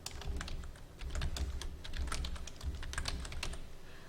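Close, rapid typing on a computer keyboard, a steady run of clicky keystrokes while entering text in PowerPoint, with no talk.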